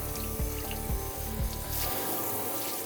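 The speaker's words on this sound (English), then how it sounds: "and then give it a good rinse" Running tap water rinses a stainless steel sink, a steady loud splashing stream close by, with a rhythmic background pulse under it for the first two seconds.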